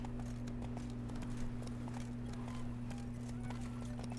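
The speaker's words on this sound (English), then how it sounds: "I can run faster then the horse can walk" Hooves clip-clop at a steady walking pace from a horse in The Witcher 3: Blood and Wine, with occasional faint whinnies over a constant low hum of game ambience.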